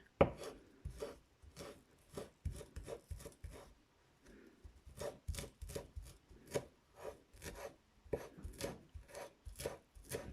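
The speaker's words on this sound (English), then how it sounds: "just chop this up really, really fine" Fresh dill being chopped finely with a knife on a cutting board, a close series of quick rhythmic knife taps in bursts, with a brief pause midway before the steady chopping resumes.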